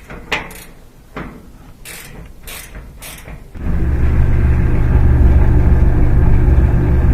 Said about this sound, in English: Back spinning good again.